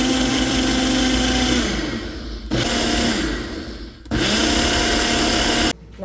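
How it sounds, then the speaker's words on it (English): A food processor whirring as it blends lilac jelly, eggs and milk, running loud and steady in three bursts separated by short pauses. "We're just gonna process it until completely combined."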